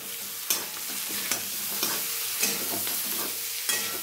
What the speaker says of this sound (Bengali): এটাও ভেজে নেব চিকেনের মধ্যে।